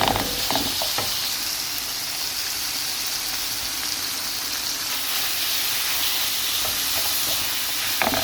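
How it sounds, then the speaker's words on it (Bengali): Bottle gourd peel frying in mustard oil in a home kitchen, giving a steady, close sizzle and hiss throughout with a few faint stirring clicks near the start and end. "এখন এই যে সরিষার তেল দিয়ে একটু ভাজা ভাজা করে নিয়েছি"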